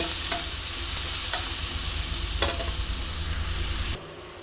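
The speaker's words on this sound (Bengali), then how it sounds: "এবার ভালো করে আমি পেঁয়াজটাকে ফ্রাই করে নেব।" Chopped onion fries in a pan with a loud, steady sizzle, and a utensil scrapes and stirs now and then before the sizzle drops abruptly near the end.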